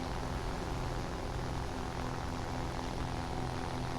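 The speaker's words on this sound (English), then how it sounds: "And this thing does have an Allison engine" In War Thunder, a P-40's Allison engine drones as a steady, even propeller hum with a broad airy roar, constant in level and heard alone without talk.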